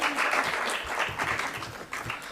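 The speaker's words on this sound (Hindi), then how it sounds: "बहुत जोरदार तालियां।" An audience at a theater lifetime achievement award ceremony applauds loudly, with dense, continuous clapping that surges in waves across the whole stretch.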